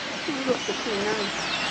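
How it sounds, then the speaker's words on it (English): Soft calls and coos of birds forming murmurations rise over a steady hiss of outdoor background noise in Magaluf, Mallorca, brief and fairly faint. "we're getting a few birds, murmurations"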